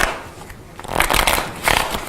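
A deck of playing cards is shuffled up close during a magic trick, giving a few quick riffling bursts of papery flutter with no talk over them.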